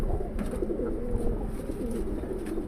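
Several old tournament pigeons, about five years old including a khaki bird, coo continuously in a loft, overlapping soft throaty calls over a low background rumble.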